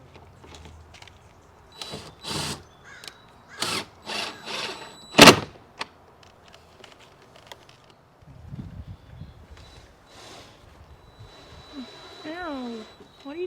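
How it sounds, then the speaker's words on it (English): A DeWalt power drill drives screws into a wooden fence while building a succulent gutter, heard as several short, sharp whirring bursts separated by quieter gaps, with voices talking around them. "now all he's going to do is take his drill and screw 4 screws into the fence"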